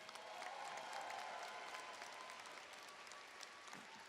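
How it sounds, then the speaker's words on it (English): Graduates and guests at a Fall 2021 commencement ceremony applaud in a steady, moderately distant patter of many hands that holds even for several seconds. "A round of applause again,"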